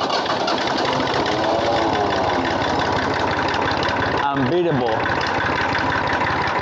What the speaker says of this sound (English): let's do a cold start of a 25 years old tractor